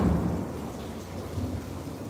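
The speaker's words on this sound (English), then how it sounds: "Okay, thunderstorm." Low, steady rumble of thunder in a thunderstorm, with rain noise underneath, moderately loud and continuous throughout without speech.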